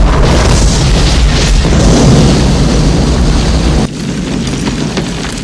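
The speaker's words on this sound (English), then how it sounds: "triggering a massive explosion." A massive explosion set off from an opened gas valve in a film roars loudly and continuously, a dense rumbling blast that drops slightly in intensity near its end.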